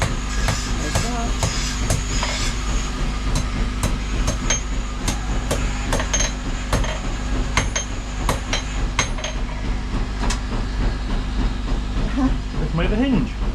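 A blacksmith forges a hinge from hot metal in a workshop in Safranbolu, striking it with sharp, ringing hammer blows at a fairly regular pace over a constant low hiss, with voices heard at times.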